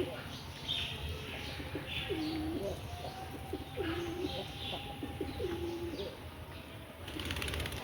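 Pigeons coo in repeated low, rolling calls at a loft, fairly close and steady against a faint outdoor hum with no talking.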